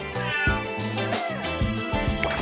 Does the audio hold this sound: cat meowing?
yes